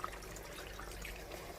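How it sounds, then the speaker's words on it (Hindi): Water poured into a king fish curry gravy in a cooking pan, a steady soft trickle and splash running continuously at low level without any talking. "अब हम इसमें पानी ऐड करेंगे जितनी हमें ग्रेवी रिक्वायर्ड है"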